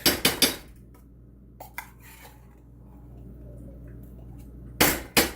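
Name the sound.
tomato paste being scraped into a pot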